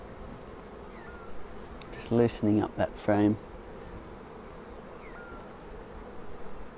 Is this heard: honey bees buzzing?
yes